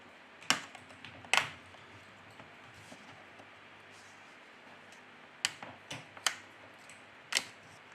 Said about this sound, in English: We remove the back cover.